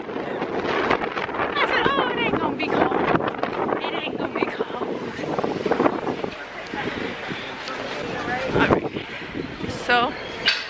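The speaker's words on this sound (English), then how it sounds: "See this wind? Look at this wind." Strong wind buffets the microphone outdoors on a cold day in New York City, a constant rumbling gust beneath continual talking from a woman and others nearby.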